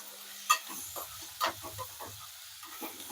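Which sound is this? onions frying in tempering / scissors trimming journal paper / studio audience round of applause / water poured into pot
onions frying in tempering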